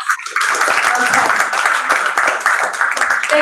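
Applause from a group clapping together on a video call, a steady dense patter of hands lasting throughout, fairly loud and close, with a little voice mixed in.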